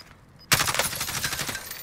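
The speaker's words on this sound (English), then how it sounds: "I shot a few times through the window" Gunshots fired through a window in the video game Warzone, a sharp burst of rapid shots starting abruptly after a brief quiet, close and loud with a rattling repeat.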